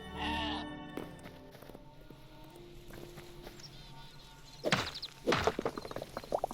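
A sheep in the Hytale video game gives a short bleat at the start, followed by scattered thuds, footsteps and heavier knocks toward the end.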